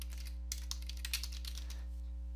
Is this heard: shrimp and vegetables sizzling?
no